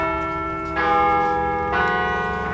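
Church bells ring at an anniversary commemoration for the Smolensk crash victims, with two clear, resonant strikes whose long ringing tones overlap and sustain, heard from a moderate distance.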